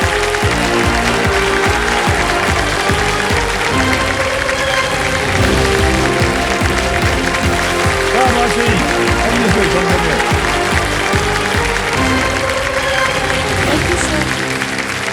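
Steady, loud studio audience clapping on the KBC quiz show set, dense and sustained throughout, with a voice speaking over it.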